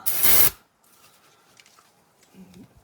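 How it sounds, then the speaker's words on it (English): Brake cleaner sprays in one short, loud hiss onto rusty rear brake parts, then cuts off, leaving quiet handling noises and a faint murmur. "I like to spray it with the brake pad when it's not clean, or if there's a lot of rust buildup on it."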